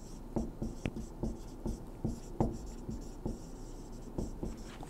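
A pen or marker scratches across a board in a lecture as someone writes by hand, a close run of short regular strokes and taps.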